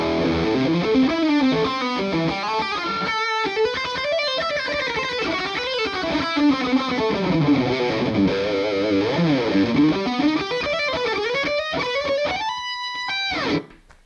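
Distorted electric guitar played through a Blackstar HT-5RH valve amp head with the ISF control turned fully to the UK setting, giving a slightly boxy tone; sustained chords and melodic runs ring continuously for about fourteen seconds before cutting off.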